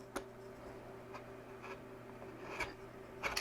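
Scissors snip through four stacked layers of batik fabric, giving a few sharp, separate cuts spread over a quiet, steady room background.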